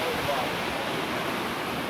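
A 90-foot waterfall in Hawaii roars as a dense, steady wash of broadband rushing water, loud and unbroken for the whole moment with no clear voices.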